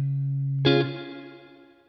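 An electric guitar runs through a Steelpark effects pedal with its tone set to full brightness, a single strummed chord ringing out bright and sustained and slowly decaying, alone after a low steady hum.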